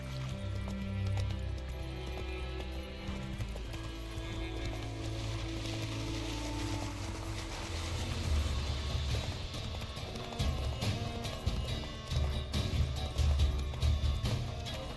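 Roach, a horse in The Witcher, gallops with steady clip-clop hoofbeats over a low game soundtrack, the rhythm thickening toward the end.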